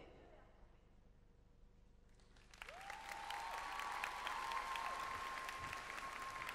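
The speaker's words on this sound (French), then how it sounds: "On l'applaudit bien fort!" Audience applause breaks out at a cosplay show at Japan Expo. A quiet stretch gives way to loud, sustained clapping and crowd noise that fills the hall, with a tonal sound gliding in as the applause starts.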